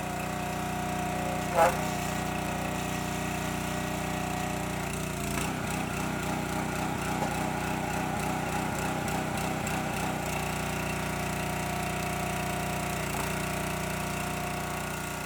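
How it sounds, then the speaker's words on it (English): One-way log splitter with an engine running at a steady idle-like drone, close and constant for the whole stretch, with a brief knock near the start and a few faint mechanical rattles. "The splitter itself is a one-way splitter."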